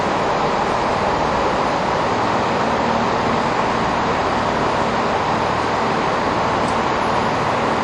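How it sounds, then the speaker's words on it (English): Train pulling into London's Marylebone Station, a steady broadband rumble of wheels and engine heard close and loud throughout, with station ambience and no clear talk. "There's one train arriving, probably this will be the one."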